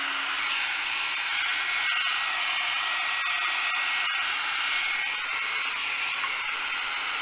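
A 3-in-1 thermal weed burner runs steadily in an overgrown garden, giving a constant hot-air blower whoosh with a bright, hissing tone at moderate level and no talking.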